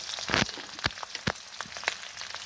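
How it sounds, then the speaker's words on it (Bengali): A paste of ginger, garlic and cumin fries in hot oil, giving a short run of crackles and sharp pops at an even, close volume. "আদা বাটা, রসুন বাটা, জিরা বাটা দিয়ে দিচ্ছে। তেলের মধ্যে দিয়ে দিল যাতে কাঁচা গন্ধটা না আসে।"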